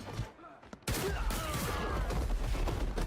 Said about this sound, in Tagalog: Oh, shotgun oh.